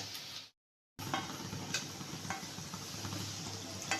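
Lentil fritters frying in oil over low heat, a steady crackling sizzle close by that cuts out briefly near the start, then resumes with scattered pops and light stirring clicks.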